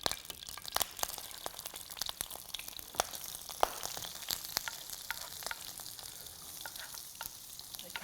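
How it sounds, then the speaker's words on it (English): Vegetables stir-frying in a hot pan give off a steady, close sizzle, with sharp crackles and the clatter of stirring scattered throughout. "So right after stir frying the vegetables"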